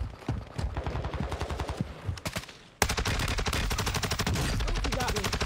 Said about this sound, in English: Somebody just shot me that was behind me somehow.